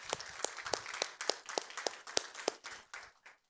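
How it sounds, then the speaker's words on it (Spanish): A church congregation claps in welcome for first-time visitors, with a steady run of fairly sharp, evenly spaced claps that stay modest in volume and fade out near the end, with no talking over them. "Quiero un fuerte aplauso a todos los que vinieron por primera vez."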